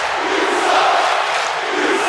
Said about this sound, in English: Kai is reveling in this reaction from this MPWF crowd